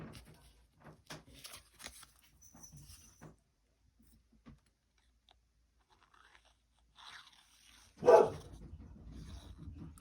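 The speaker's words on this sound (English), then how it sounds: "And what Jess is barking at." A single loud dog bark rings out near the end, after a stretch of quiet scattered handling noises, followed by low rustling.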